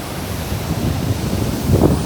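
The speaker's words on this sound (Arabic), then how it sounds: "ولكن راه مجهد مزيان المواج طالعين" Steady roar of rough surf at Zenata beach, Morocco, with wind buffeting the microphone, waves swelling slightly louder toward the end, no voices.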